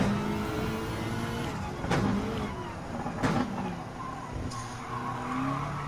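Gran Turismo 7 race cars run in a driving mission, including a BMW M3. Engines drone with rising revs, tyre squeal and a few sharp passing whooshes, at moderate volume.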